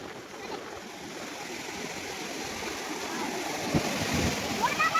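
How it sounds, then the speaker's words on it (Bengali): Sea waves wash up on Puri beach at night, a steady, broad rushing surf that swells a little louder toward the end. "ঢেউ দেখো পুরো পা পর্যন্ত চলে আসছে,"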